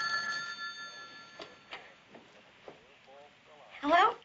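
A telephone rings in a dramatic crime-series scene. Tones with a bright bell-like quality sound amid tense talk, and a louder ring bursts out at the end.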